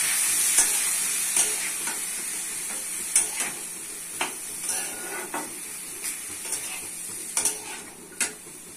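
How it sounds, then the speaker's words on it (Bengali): Masoor dal is sautéed with potato, egg and tomato, a soft steady sizzle under repeated sharp clinks of a spatula stirring against the pot, fairly quiet and close. "চাপা দিয়ে কষিয়ে দিতে হবে। রান্না করে দিতে হবে কষে কষে।"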